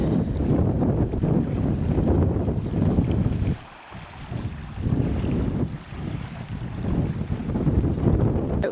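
Breezy wind at Lake Will on Tasmania's Overland Track buffets the microphone in a loud, continuous roar with brief lulls, up close and without voices.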